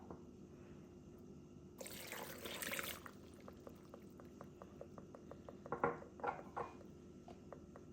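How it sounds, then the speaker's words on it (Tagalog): Water is poured into a pan of fish cooking with bilimbi in a one-second splashing gush, followed by faint, evenly spaced clicks and soft kitchen clatter nearby, with no talking. "And then we can add water now."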